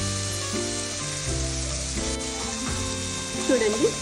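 Steamed green beans with fresh grated coconut frying in a pan give a steady soft sizzle, with scraping stirring noises and a few clinks on top, no voice.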